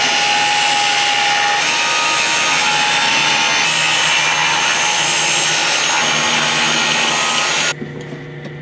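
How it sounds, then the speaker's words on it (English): A saw cuts wood slats for stone crab traps in a continuous, loud rasping run of about seven seconds, stopping abruptly into quieter room noise. "now we're gonna just go ahead and cut some of our wood for our wood slats"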